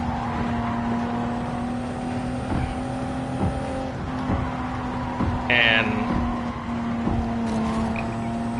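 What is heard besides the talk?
GTO twin turbo car driving through chicane in Gran Turismo 7 video game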